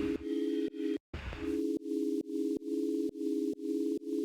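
A sustained synth pad built from a sine wave with a little white noise, its pitch wobbled by an LFO, holds a steady tone that cuts off in short regular gaps, loud and alone with no voices.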